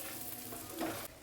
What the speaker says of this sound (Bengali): সেই তেলের মধ্যেই ফোড়নে দিয়ে দিচ্ছি কালো জিরে, দিয়ে দিচ্ছি রসুন কুচি